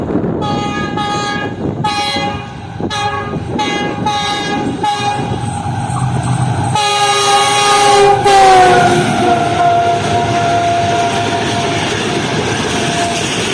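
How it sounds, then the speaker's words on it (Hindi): Karakoram Express passenger train hauled by a GU40 diesel locomotive passes at good speed, rolling wagon clatter close by, with a long sustained horn blast sounding in the second half. "तो दोस्तों ये आ रही है 41 अब कराकरम एक्सप्रेस"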